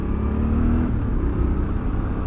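A 2021 Yamaha Tenere 700 adventure motorcycle with its MT-07 engine drones loudly and steadily close by, a sustained low engine note with little change in pitch.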